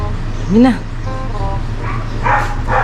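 A dog yelps and barks a few times nearby, with rising whiny tones, over steady low background rumble and occasional voices, in a rural countryside setting.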